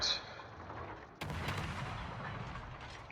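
Anti-aircraft and ship gunfire in a naval battle game, with aircraft attacking a warship: a steady roar of rapid firing and booms that jumps louder about a third of the way in and carries on without pause, with no talk.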